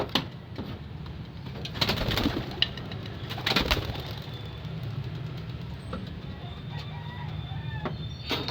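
Rooftop pigeons coo and flutter close by in Aragay, La Union, with soft repeated calls, a few sharp wing flaps and brief scuffles over a steady outdoor background.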